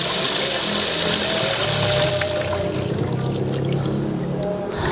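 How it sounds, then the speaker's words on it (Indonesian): Leftover water pours out of a switched-off pump's pressure tank and a bottle, a steady broadband splashing and gushing flow that runs continuously and loud, easing slightly toward the end. "Saya buang semua ya, perhatikan. Ini kondisi pompa mati kawan ya. Ini sisa air yang ada di dalam tangki dan botol itu."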